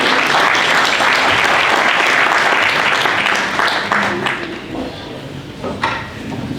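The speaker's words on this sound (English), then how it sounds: "Please, let's give it a round of applause." Audience at a security summit ideathon claps as a presenter returns to the stage, a full, loud burst of applause that thins and fades toward the end.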